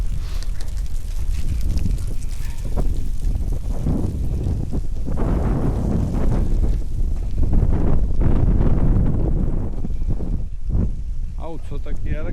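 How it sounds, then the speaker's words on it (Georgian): Strong outdoor wind buffets the microphone, a loud, low, continuous rumbling roar that swells in gusts, with a person talking beneath it. "კაი ქარია და მაგრად შემცირდა"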